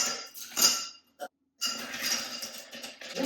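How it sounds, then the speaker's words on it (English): Ice clinking and rattling in a mixing glass as a dark, Fernet-based drink is stirred, close and crisp in two bursts separated by a brief pause. "Let's stir."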